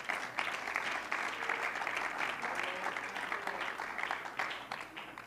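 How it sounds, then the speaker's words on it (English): A church congregation claps in praise to the Lord, dense steady applause filling the room at moderate level, sustained without pause and with no talk over it. "One more time, give the Lord a hand clap of praise."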